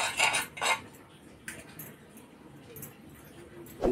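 A metal appe pan is set onto a heated pan on a gas stove, giving a few sharp clinks and clattering knocks spaced through an otherwise quiet kitchen.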